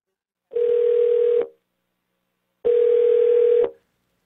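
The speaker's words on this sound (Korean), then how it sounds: "우리 제작진은 지금 다시 한번 전화를 걸어봅니다." Two steady telephone tones sound while a call is being placed, each lasting about a second with a pause between, loud and clean with no voices.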